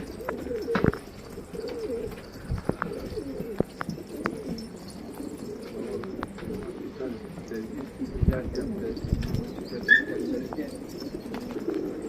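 Pigeons coo steadily in a crowded loft holding a flock of around four hundred birds, soft throaty calls overlapping close by, with occasional wing flaps and a few people talking intermittently.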